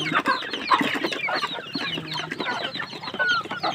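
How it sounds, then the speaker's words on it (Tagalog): Several chickens cluck and chatter nearby in a busy, overlapping chorus, with no talking. "daming manok pa, katuwa oh"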